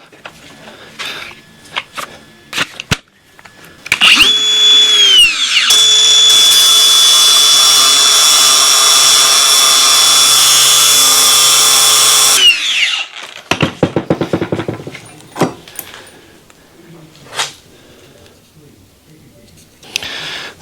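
An angle grinder bites into a Hardhat wristwatch with a loud, sustained high-pitched whine lasting several seconds. It spins up and winds down, and scattered handling knocks and talk come before and after.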